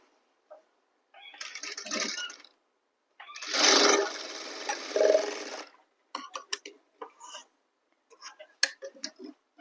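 A sewing machine runs a normal half-inch seam along a suit neckline in two steady, close bursts of motorized stitching, followed by scattered light ticks and clicks of fabric handling, with no talk.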